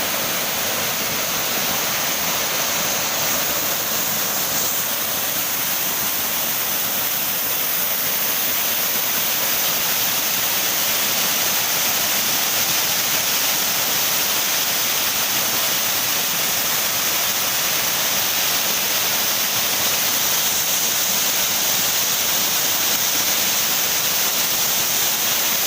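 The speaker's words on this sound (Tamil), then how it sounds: "இந்த அருவியோட சத்தத்தை கேட்கணும்னு சொல்கிறதா நான் கொஞ்ச நேரம் மியூட் பண்ணியிருந்தேன்." Masila waterfall in the Kolli Hills roars as a steady, dense rush of falling water, close and loud throughout with no voices.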